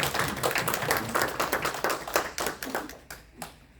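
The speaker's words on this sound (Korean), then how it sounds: "우리 박수합시다." A small church congregation clapping together during a Sunday worship service, a steady run of claps that thins out and fades near the end.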